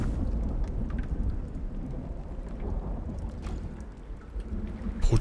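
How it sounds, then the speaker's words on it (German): Thunderstorm in the video game ICARUS, a heavy low rumbling roar of wind and thunder running throughout, fairly faint overall with a sharper crack near the end. "Das Gewitter ist übelst"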